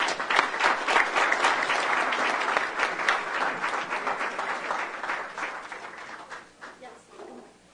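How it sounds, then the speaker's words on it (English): Audience at a board of directors meeting applauds volunteers in a steady round of clapping that fades gradually toward the end, with some voices mixed in. "So could you all give them a round of applause for all their work?"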